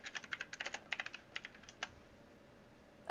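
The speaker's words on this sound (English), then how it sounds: "I can hear your keyboard there" Computer keyboard typing in quick irregular bursts of clicks, fairly faint and close, during an online tabletop role-playing session, stopping before a brief louder noise at the end.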